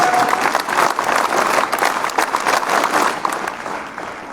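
A room full of students claps steadily and loudly at a school cyber awareness day event, the applause holding even and close for the whole stretch before easing slightly at the end.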